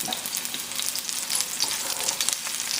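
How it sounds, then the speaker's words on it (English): Mushrooms hit a hot pan of beef stir fry with orange and ginger sauce, setting off a dense, crackling sizzle with small sputtering pops, close up and unbroken. "Go ahead and add my mushrooms in there."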